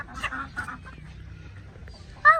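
Several short, soft clucking calls from a few chickens, with a brief sharper squawk at the end, heard at close range amid low background noise.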